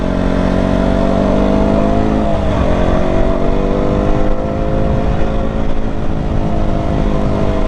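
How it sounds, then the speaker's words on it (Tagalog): A motorcycle engine rumbles steadily and loudly through its exhaust pipe, with a brief dip and rise in pitch partway through, like throttle being eased and opened. "naririnig nyo talaga yung pipe nya ganyan na ganyan yung tunog nyo"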